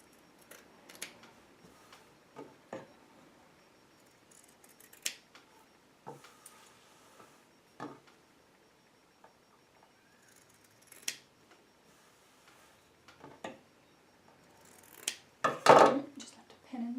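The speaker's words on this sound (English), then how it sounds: "Let's just trim these corners." Scissors snip through fabric corners of a handmade cushion in scattered, sharp clicks with quiet gaps between, growing louder and busier near the end.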